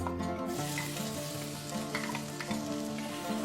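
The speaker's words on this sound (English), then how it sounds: "So now the oil is hot and I'm going to add the onions" Onions hit hot cooking oil and fry with a strong, close, continuous sizzle and crackle, while some tonal background music plays underneath.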